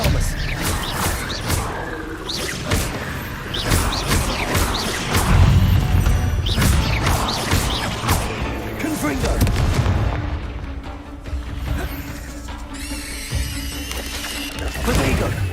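Confringo blasting spells in Hogwarts Legacy, setting off a loud chaotic string of booms, crashes and impacts that overlap closely through a combat scene, with a voice shouting spell names over them.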